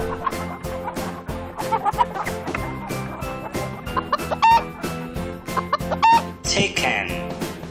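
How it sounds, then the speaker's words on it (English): Chicken clucking in a busy farmyard, with repeated short clucks and a few sharper calls rising over background music, fairly near and moderately loud. "chicken,"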